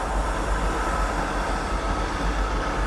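Northern class 150 diesel unit 150.274 pulling out of Doncaster station, a steady broad rumble of engine and rolling stock holding at an even, fairly close level with no voices.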